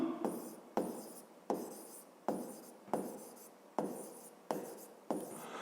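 Pen or pencil writing by hand on paper, a series of about eight rhythmic scratchy strokes, each starting sharply and trailing off, close and fairly quiet with no voice over them.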